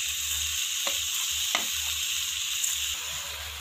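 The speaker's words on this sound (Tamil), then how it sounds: "இப்போ அரிசியை சேர்த்துட்டு நல்லா கலந்து விடுவோம்." Soaked, drained rice being stirred into sautéed vegetables in a pot for vegetable biryani, with a steady sizzle and a few sharp scraping stirs of a spoon against the pan, no voices.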